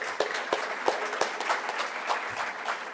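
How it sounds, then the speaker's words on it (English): Applause from an audience gathered at a Making Strides breakfast event, a steady patter of many hands with sharper individual claps standing out, moderately loud and without talk. "Yes, round of applause."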